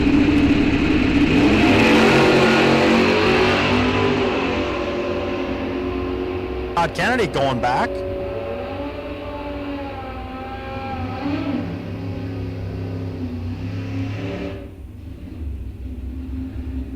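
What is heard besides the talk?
drag racing Pontiac and pickup truck at Rock Falls Raceway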